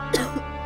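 A woman gives a short, fairly loud double cough, two quick bursts in under half a second over a faint steady hum.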